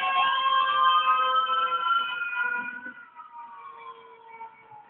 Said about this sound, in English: Oh, where that siren coming from?